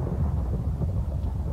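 Deep rolling thunder follows lightning in a blocky survival-style video game, a dense continuous low rumble with no sharp crack, steady and moderately loud throughout.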